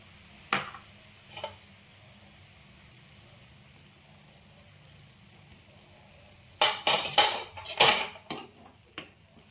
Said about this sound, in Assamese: এইখিনি মই অকণমান সময় লৰাই ভাজি লওঁ।